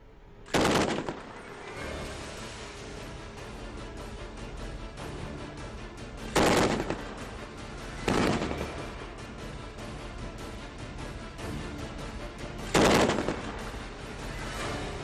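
Four separate short bursts of automatic fire from a machine gun at an army shooting competition, loud and sharp, spaced several seconds apart over a steady low background hum.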